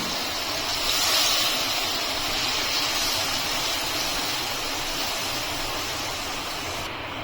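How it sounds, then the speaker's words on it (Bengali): Milk poured into hot fried spice masala in a pan for a vegetarian chana dal malai curry sets off a loud, continuous sizzling hiss that holds steady throughout. "এখন আমি এর মধ্যে দিয়ে দিচ্ছি দুধ"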